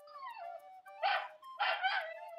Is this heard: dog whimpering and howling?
yes